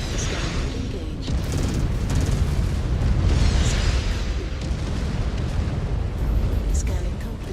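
Missile blasts in the MechWarrior game Wolves of Tukayyid, a continuous dense rumble of booms and bursts through the whole stretch, loud and layered with repeated impacts rising and falling.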